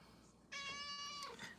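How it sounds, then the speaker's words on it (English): A cat gives one drawn-out, tonal meow, fairly close and clear, against a quiet indoor background with no talking. "Meow."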